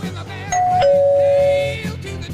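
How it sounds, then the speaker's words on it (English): A two-tone ding-dong doorbell chime rings once at a house front door, loud and close, its second tone holding and fading out over a low background hum. "Go ring those doorbells"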